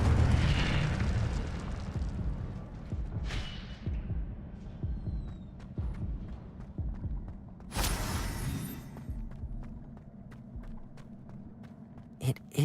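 Magical spell effects crackle and burst in Hogwarts Legacy within the Forbidden Forest: several loud whooshing blasts separated by a few seconds, with rumbling impacts and quieter clatter between them.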